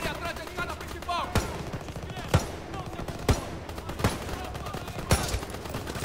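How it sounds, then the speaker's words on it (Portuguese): Gunfire in the video game Call of Duty WW2: repeated sharp shots, several loud single cracks spaced about a second apart over a busy battle din, with a voice talking over it. "Dá três tiros, quatro tiros nele."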